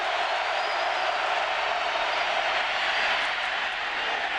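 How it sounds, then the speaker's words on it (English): Dense stadium crowd roaring for the defense at a 2003 Penn State vs Nebraska college football game, a steady, loud wall of cheering throughout. "The crowd alive now for the defense."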